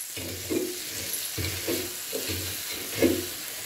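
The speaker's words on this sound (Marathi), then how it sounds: "आणि ही मिरची आपल्याला आता तव्यातच रगडून घ्यायची आहे." Fried green chillies being crushed in a hot pan, a rhythmic series of about six dull grinding strokes with a faint sizzle underneath, close and steady.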